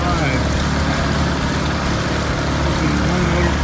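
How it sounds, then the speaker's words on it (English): A Searunner 34 trimaran sailboat motoring on one engine with a second outboard dragged along, a loud continuous engine drone mixed with rushing water and wind. "One motor pushing."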